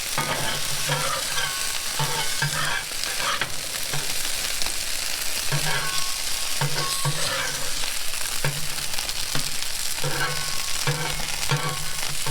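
Tacos fry in hot oil with a steady, loud, close sizzle throughout, broken now and then by scraping and shuffling as they are flipped in the pan.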